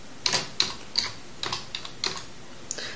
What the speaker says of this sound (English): And over here, I'm gonna type something.